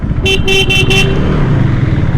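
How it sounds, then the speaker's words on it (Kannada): Four short honks from a KTM Duke 390 BS4 motorcycle horn in quick succession over a steady idling engine, close and loud. "ಹಾರನ್ ಕೇಳಿಸ್ಕೊಳ್ಳಿ"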